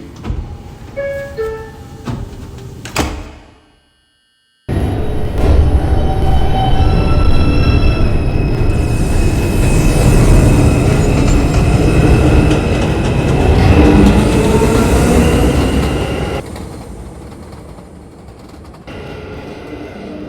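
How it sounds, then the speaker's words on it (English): A Flatbush Avenue-bound New York City subway 2 train on the IRT line pulls out of a station: after a brief hush, a loud rumble swells with wheel squeal and rail clatter, holding steady before easing off near the end. "This is a Brooklyn College Flatbush Avenue bound 2 train."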